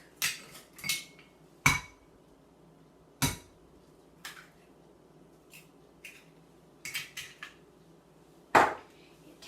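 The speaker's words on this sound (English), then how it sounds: "so 2 eggs, we're going to whisk it together with a whisk" A whisk beats two eggs together for a custard, giving irregular sharp clinks and taps against the bowl with quieter scraping between them.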